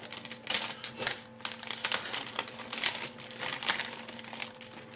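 A resealable plastic bag holding clear plastic parts from an ICM ZiL-131 emergency truck model kit crinkles and rustles close up, in quick irregular bursts of crackling handling noise.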